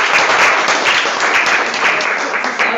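Loud, dense audience applause at a summer school session, a steady wash of clapping that holds for the whole stretch.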